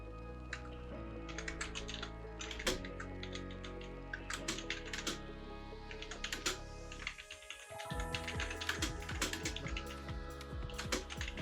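Irregular bursts of computer keyboard keystrokes as a question is typed in a help-desk software window, close and fairly quiet over a steady background hum.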